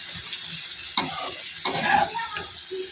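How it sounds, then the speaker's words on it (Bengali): Vegetables fry in hot oil with salt, a steady close sizzle with occasional sharper crackles and stirring bursts, no voices over it. "খুব ভালোভাবে আগে তেল দিয়ে শুধু লবণ দিয়ে সবজিটা আগে ভেজে নিচ্ছি"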